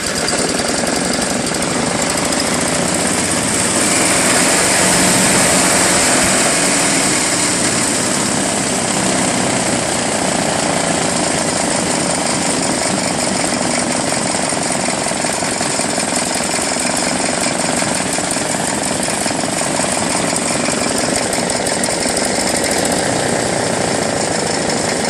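A rusted Sears Craftsman wood chipper shredder with a 5 HP Tecumseh engine runs loud and close, its engine roaring continuously under a heavy, steady rattle from unbalanced parts.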